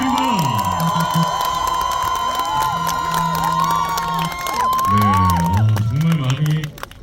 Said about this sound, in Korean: 강동의 그 무대를 선사해준 우리 고맙게 사분들에게 아주 큰 박수 부탁드립니다.